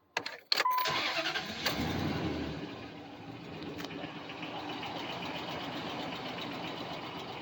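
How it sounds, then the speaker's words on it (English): A 2004 Dodge Ram 1500 with the 4.7L engine cranks briefly, catches and settles into a steady idle, heard up close and alone. "Let's give her a crank."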